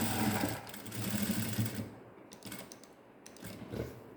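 A sewing machine double-stitching lace onto a blouse makes a steady, rapid mechanical whirr that stops briefly partway through, with some clicking, then runs again in short bursts.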